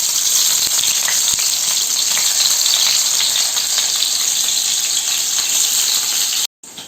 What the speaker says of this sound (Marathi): पनीर असं चांगलं फ्राय करून घ्यायचं असा फ्राय